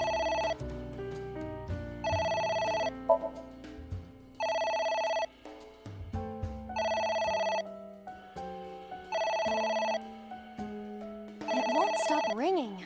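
A telephone rings in the video game AI: The Somnium Files, a repeated electronic ringtone in evenly spaced bursts with short pauses, loud and near, continuing for several cycles over a low musical background.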